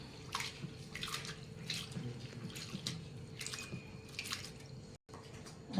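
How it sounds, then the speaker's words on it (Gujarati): Flattened rice (poha) being rinsed in a bowl of water in a home kitchen, with soft repeated sloshes and drips at a steady rhythm, close and fairly quiet, no talking. "આપણે 2 પાણીમાં ધોઈ કાઢીશું પૌવાને."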